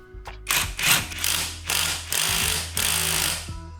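A torque limiting extension on an impact wrench drives a bolt in, set up with an 80 foot-pound bar, giving a loud, close run of rapid mechanical hammering in several bursts with brief pauses between them.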